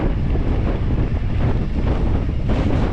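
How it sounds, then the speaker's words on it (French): Strong wind buffets the microphone during an e-bike mountain ride in the Basque hills near Donestebe, a steady, loud roaring rush with no let-up, the gusts swelling slightly near the end. "je suis en plein courant d'air"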